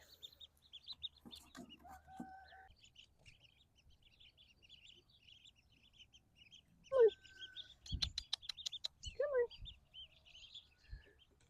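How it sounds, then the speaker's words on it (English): Baby blue runner ducks give faint scattered peeps and calls, with a few louder squawks and bursts of activity midway, heard at a moderate distance. "We have four of the blue runner ducks."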